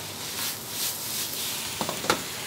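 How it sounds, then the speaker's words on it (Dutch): Onion, tomato and spices sizzle in a hot wok, a steady close frying hiss with a few light clicks of stirring near the end. "Uitje, tomaatje erbij. Lekker wokken."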